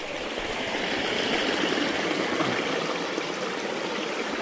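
Water runs in a steady, close rush from a Scottish Cairngorms stream as a bottle is filled, broadband and unbroken with no voices.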